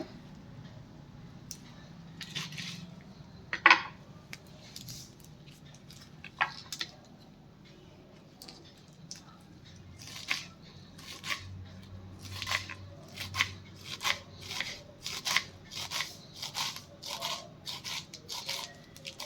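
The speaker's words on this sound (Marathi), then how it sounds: "आता ही चाकवताची भाजी आहे ही आपण छानपैकी चिरून घेऊया" Chakvat (bathua) leafy greens being chopped, starting with sparse, quiet cuts and then a fast, steady run of crisp chops close by, with no voices.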